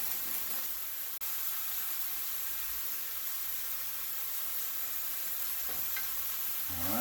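Mixed vegetables for pork fried rice stir-fry in a hot pan, a steady broadband sizzle running throughout with a brief tap near the start and faint scraping stirs toward the end, no talking.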